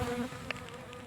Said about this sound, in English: that's them. That's the bees.